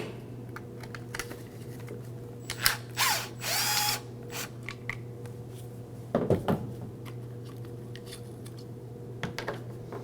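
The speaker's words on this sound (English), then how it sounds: "We can go ahead and remove our T25 Torx bit." A T25 Torx bit backs screws out of a 2009-2014 Ford F-150 rear park assist camera, heard as scattered close clicks and short ratcheting whirs over a steady low hum.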